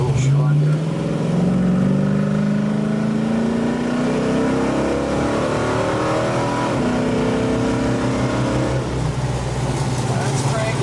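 A 1973 Dodge Charger engine running and revving, a loud close roar whose pitch climbs steadily as it accelerates, then settles into a rough sustained rumble.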